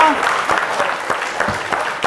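Brief applause from an audience at a student quiz contest, close and fairly loud, with a short voice over the start of the clapping.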